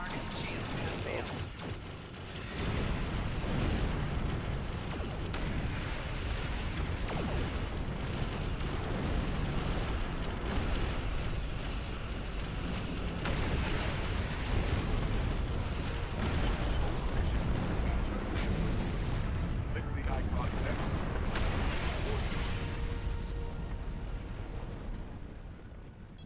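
Torpedo explosions in the space combat game Star Trek Online roll out as a dense, continuous barrage of booming blasts and crackling impacts, loud and sustained before thinning toward the end.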